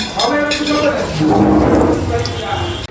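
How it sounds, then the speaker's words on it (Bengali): Crispy iftar snacks frying in a home kitchen, a steady close sizzle with clinks of utensils and pans, while people talk over it. "ভাজাভাজির দায়িত্বে আজকে আছে সুমাইয়া অলরেডি অনেকগুলো ইফতারি ভেজে ভেজে ফেলছে ক্রিস্পি ক্রিস্পি ইফতারি"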